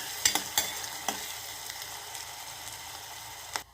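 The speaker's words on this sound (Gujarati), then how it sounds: "હવે લીલું લસણ ને ડુંગળી આપણે નાખી દઈએ" Green garlic and onion frying in hot oil for a dal tempering with asafoetida and whole spices, giving a soft steady sizzle with a few sharp crackles and pops near the start and another near the end.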